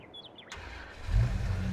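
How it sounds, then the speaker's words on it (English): A pickup truck in Farming Simulator 22 starts up after faint bird chirps, its engine rising into a low, steady idle rumble that grows louder and holds near. "All right, I'll run and grab our pickup truck here."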